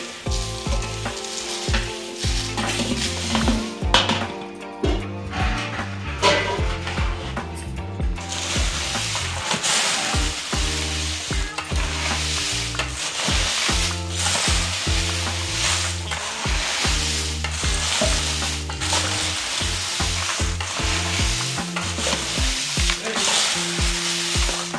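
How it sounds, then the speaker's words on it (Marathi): Roasted garam masala spices are stirred together in a pan at home, with steady scraping and rattling strokes from a spoon against the metal and a faint sizzle beneath, repeated continuously up close without talking. "आता त्यामध्ये आपण आत्ता भाजलेले सर्व गरम मसाले एकत्र मिक्स करून घेणार आहोत"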